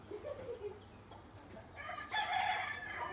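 Backyard chickens at a home in the evening, a rooster crowing at a distance with a few soft clucks, faint under quiet household background noise.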